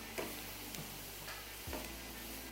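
Chicken chops deep frying in oil, heard as a constant soft bubbling sizzle with a few faint stirring clicks, no voices.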